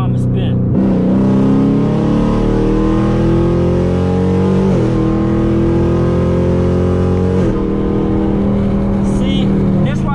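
Chevrolet Camaro ZL1 engine revving hard under acceleration, loud and close, its pitch climbing through three gear shifts made with paddle shifters.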